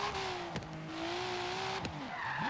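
A car drifting with the handbrake in Forza Horizon 3, engine droning steadily with sharp tyre squeals and skids as it slides through a corner, loud and continuous.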